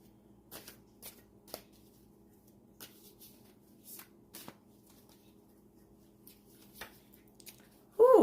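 Deck of cards riffled and shuffled in quiet, soft brisk flutters and taps scattered across the stretch, close by and fairly faint.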